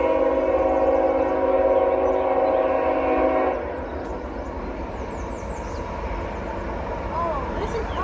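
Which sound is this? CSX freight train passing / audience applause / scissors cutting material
CSX freight train passing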